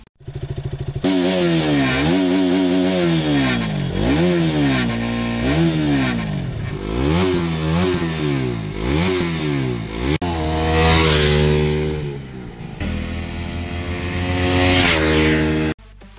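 A single-cylinder motorcycle engine of the 100–250cc commuter class is heard close up and loud, running steadily with repeated rises and falls in pitch as the throttle is blipped, alone without talk.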